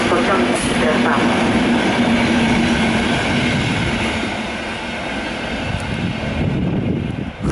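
A train rumbles at Skierniewice railway station, a continuous loud rolling roar with clatter that eases slightly midway and swells again, with muffled station background beneath.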